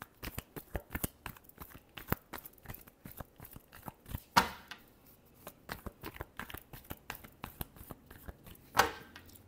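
Tarot cards being shuffled by hand in a long run of quick, crisp riffling flicks, with two louder snapping bursts standing out along the way; close and fairly quiet, no talking.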